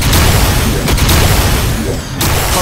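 Xenon, a character in the MapleStory game, fires weapons while fighting the boss Chaos Von Bon, a dense, loud barrage of booming blasts and crackling bursts with a brief dip near the end before the onslaught resumes.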